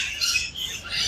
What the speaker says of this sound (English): Parrots are super loud. Yo, you guys can still hear them.